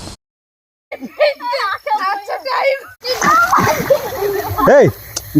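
Splashing water as people wade through a waist-deep canal toward a dangerous pool, loud sloshing bursts after a brief silent gap, with children's voices and talk mixed in.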